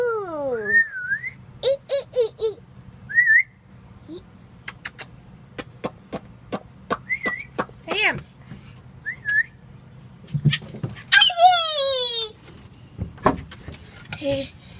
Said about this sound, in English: You trying to whistle?